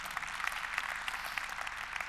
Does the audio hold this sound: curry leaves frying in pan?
no